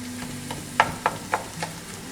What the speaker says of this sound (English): we're gonna take a spatula and just mix this all up